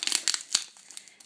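Tape and plastic packaging being torn and crinkled off a Pokémon card tripack, a short run of close, sharp crackling rips and rustles in irregular bursts, with no voice.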